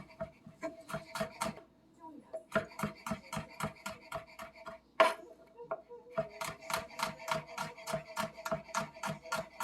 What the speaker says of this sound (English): Finally, slice the garlic.